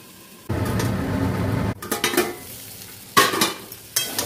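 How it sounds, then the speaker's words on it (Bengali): Tomatoes fry in hot oil in a covered pan over high-to-medium gas heat, a steady near sizzle broken by the clatter and scrape of a utensil stirring against the pan. "এবার এটাকে ঢাকা দিয়ে গ্যাসটা হাই টু মিডিয়ামে রেখে এটাকে ভাজা ভাজা করব"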